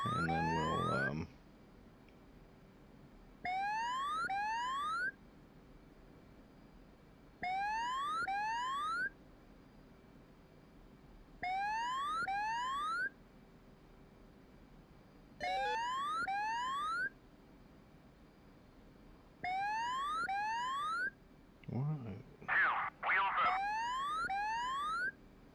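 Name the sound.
altitude alarm going off in DCS flight simulator video game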